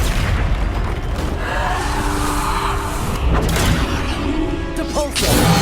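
Bombarda blasting spells exploding in Hogwarts Legacy amid constant battle noise, with several dull booms and whooshes rising out of a thick, loud mix and a final sharp burst near the end.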